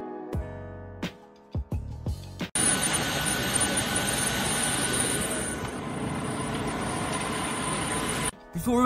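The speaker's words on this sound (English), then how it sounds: "This plane gets stuck in the mud while taxiing." An airplane stuck in mud while taxiing runs its engine at a loud, steady roar for several seconds, preceded by a few sharp knocking clicks and ending with a brief dip.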